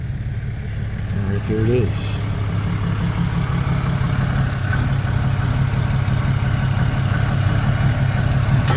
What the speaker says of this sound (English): Hear the Mack truck coming up next to me?